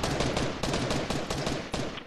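Bursts of rapid automatic gunfire in a video game shooter, sharp repeated cracks in quick succession over about two seconds, loud and close.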